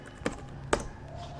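Two separate keystrokes on a computer keyboard while entering dimensions in CAD software, sharp isolated taps about half a second apart, fairly quiet and close.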